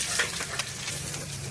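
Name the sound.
eggs frying in oil in a frying pan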